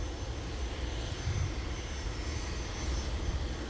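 A United Airlines plane at Minneapolis–St. Paul airport in winter produces a steady engine roar, moderately loud and constant at a middle distance, with no speech.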